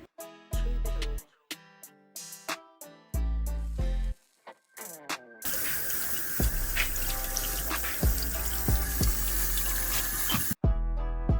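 Tap water runs in bursts and then pours steadily into a container while buffalo berries are washed, splashing close and loud with short pauses between flows.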